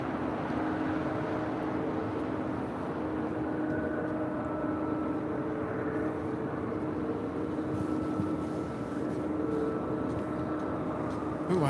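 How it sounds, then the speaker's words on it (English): A 23-year-old United Airlines Boeing 777-200 arriving at LAX from Chicago O'Hare gives a steady, broad jet roar with a low tonal hum, holding even and fairly loud for about twelve seconds with no talk. "This flight coming in from Chicago O'Hare, United Airlines flight 2406. This 23-year-old 777-200."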